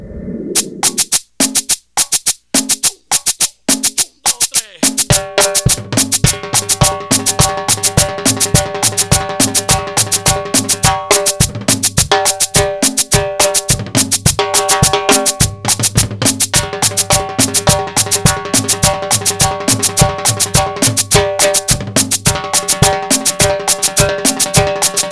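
Timbal fills combined with a steady bass drum rhythm, loud and close: sharp rapid strikes at first, then a dense driving pattern with accompanying backing music running continuously for about twenty-five seconds.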